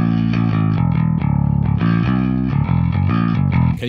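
Distorted electric guitar chords played through a guitar cabinet miked with a condenser microphone, full low end and lower mids, steady loud rhythmic strumming with no talking.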